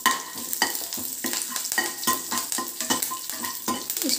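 Cumin seeds and green chillies fry in oil in a pan, a close crackling sizzle broken by regular stirring scrapes about twice a second.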